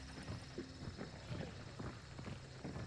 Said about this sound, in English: Sounds like footsteps this way.